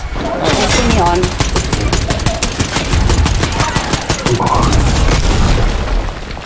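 Rapid gunfire bursts from a video game, dense and loud throughout, with booming shots layered over each other while players talk over the action.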